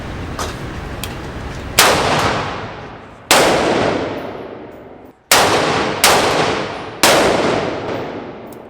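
Unsuppressed gunfire rings out in six loud, sharp single shots at irregular intervals, each followed by a long echoing decay and no talking.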